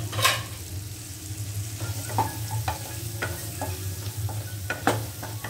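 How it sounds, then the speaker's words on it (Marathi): Karanda berries are stir-fried in a pan for a sweet-sour chutney, a soft steady sizzle broken by repeated sharp scrapes and taps of a spoon against the pan, close and with no talking. "करवंद टाकून आपल्याला याला परतून घ्यायचं आहे"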